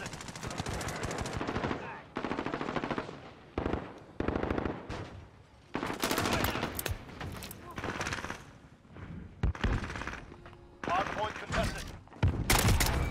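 SKS rifle fire in Modern Warfare 2022 multiplayer: loud, rapid bursts of shots in clustered volleys separated by short gaps, close and punchy, with a voice speaking in between.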